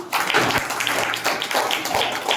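Children in an abacus class at an academy clap their hands together in a quick, brisk burst of overlapping claps, close and lively, lasting a couple of seconds.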